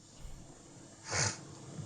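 A single sharp sniffle from a person, short, close and fairly loud, rises out of a quiet room.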